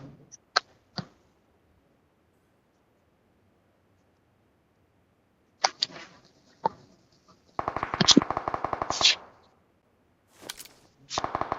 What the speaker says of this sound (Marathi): इकडनं फायरिंग आली तेच.